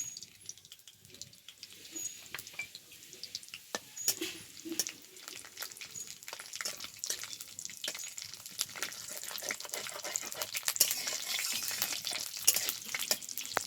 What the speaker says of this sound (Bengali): তেলের উপর দিয়ে দেবো ফোড়ন, ফোড়নে দেবো শুকনো লঙ্কা, গরম মশলা আর গোটা জিরে